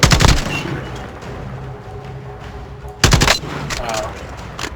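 Gunfire in Call of Duty Modern Warfare: a loud rapid burst of automatic fire at the start, a quieter stretch, then another sharp volley, with a voice speaking amid the shooting.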